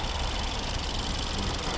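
A 2014 Ford Tourneo Connect with a 1.6 petrol turbo engine runs at a steady, even idle, a continuous close mechanical hum with no talk over it.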